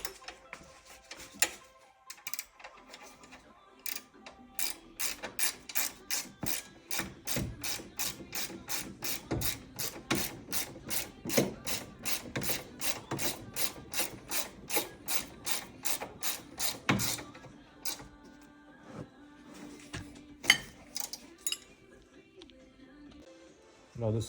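A ratchet wrench tightens the screws on a lower control arm ball joint of a Citroen C3 phase 1 during clutch replacement. It gives a long run of quick, evenly spaced metallic clicks, close and moderately loud, before stopping near the end.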